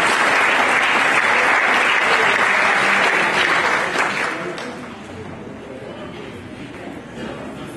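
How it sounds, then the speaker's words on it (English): Audience applause for a guest at an evening gathering: a full, loud round of clapping for about four seconds that then drops away, leaving quieter room noise and a few stray claps. "So please give him a round of applause, Mr. Orlando Cox."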